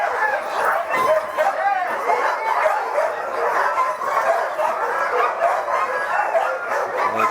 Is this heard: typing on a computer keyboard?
no